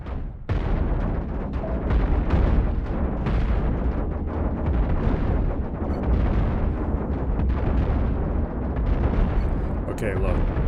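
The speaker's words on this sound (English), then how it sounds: "Close in a little closer so the cannons have a better chance to get through the" Ship cannons firing in the X4 space game, a dense, continuous barrage of booming blasts and crackling bursts that stays loud and rumbling throughout, with a voice talking underneath.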